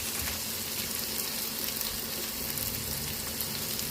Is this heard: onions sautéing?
yes